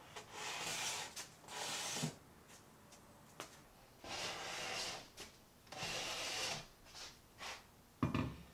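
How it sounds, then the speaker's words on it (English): An old hand plane and a large chisel working across an epoxy-coated plywood board with thin veneer, giving repeated rasping strokes in bursts with short pauses, fairly close and quiet. "I used a large chisel and an old hand plane for some of it"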